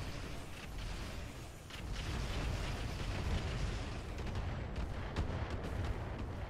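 Heavy mech weapons discharging in the BattleTech game Roguetech, a low, rumbling barrage of booms and bursts with scattered sharp cracks, fairly faint and continuous across several seconds.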